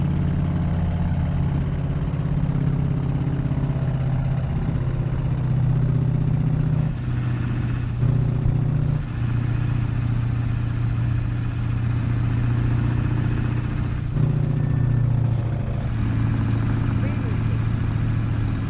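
A truck engine in American Truck Simulator drones steadily with a low idling rumble, its pitch stepping down and up a few times, with a person talking over it.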